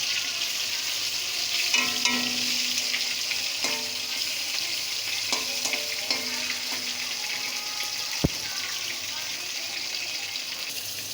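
Salted, turmeric-rubbed fish heads frying in hot oil for a Bengali kalmi greens dish, a steady close sizzle with occasional clinks and scraping of a utensil in the pan.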